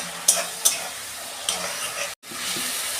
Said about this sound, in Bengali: এই যে চিংড়ি মাছ ভাজা হয়ে গেছে